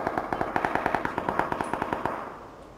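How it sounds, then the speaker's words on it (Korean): Full-auto gunfire from a rifle in the PUBG battle royale game: a rapid, steady stream of about twenty close, loud shots at an even rhythm, heard alone before fading into a short tail. "연사로 쏴야 총이 튀겨가지고"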